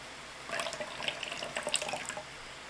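Rice vinegar pours briefly into a pineapple chicken stir fry, a soft, close liquid trickle lasting about a second and a half.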